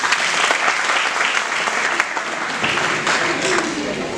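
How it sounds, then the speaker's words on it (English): Sustained, dense applause from a large audience at an MBA and BBA orientation event, steady and loud throughout with faint voices mixed in. "Give them a huge round of applause,"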